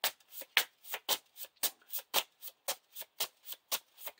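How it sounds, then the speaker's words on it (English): Playing cards being shuffled during a Lord of the Rings card game, a steady run of about fifteen crisp riffling bursts at a regular rhythm, close and clear with no talking. "we have to shuffle the encounter discard pile into the encounter deck"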